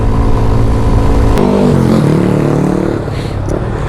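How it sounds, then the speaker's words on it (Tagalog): Motorcycles speed by on a road in Toril, Davao City, with loud, close engine roar that drops and fades as they pass. "Bibilis na ng mga motor."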